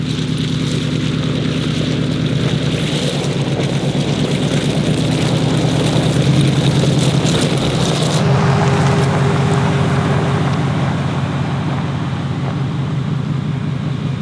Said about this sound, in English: So I'm gonna keep driving down this way a little bit and we'll see if we can find a spot to camp.